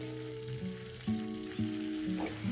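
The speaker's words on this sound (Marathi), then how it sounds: "मसाल्याला जोपर्यंत मस्त असं तेल सुटत नाही तोपर्यंत आपल्याला मसाला छान असा परतवून घ्यायचा आहे, भाजून घ्यायचा आहे।" Khandeshi shev bhaji spice masala sautéing in hot oil, a steady low sizzle with a few soft stirring scrapes and a faint tonal hum running underneath, close and fairly quiet with no voices.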